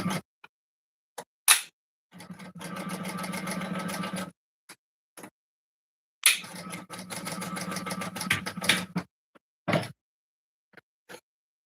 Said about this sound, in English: stitch that on at 1/4 inch seam allowance